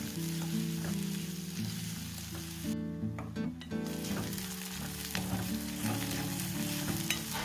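Sliced onion, garlic and green chillies sautéing in a pan, a loud continuous close sizzle with intermittent stirring scrapes and a brief quieter gap midway.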